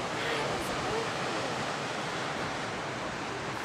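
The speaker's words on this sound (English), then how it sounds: "But the water shooting out of there, that is unbelievable." Water gushes out of Laggan Dam in a constant, dense roar, a loud and unbroken rush that holds steady throughout with no voices rising above it.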